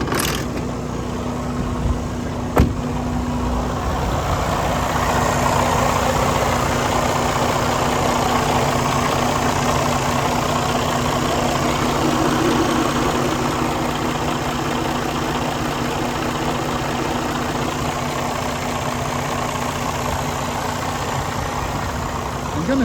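A 2018 Freightliner Cascadia truck with a DD15 diesel engine idles steadily and up close, a constant low rumble with a droning hum that holds for the whole stretch, with no talking.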